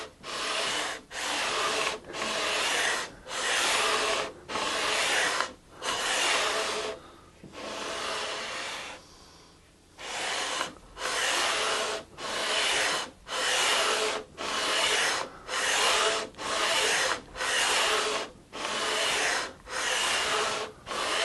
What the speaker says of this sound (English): there's not much you can screw up with sandpaper, especially because it's such a slow going process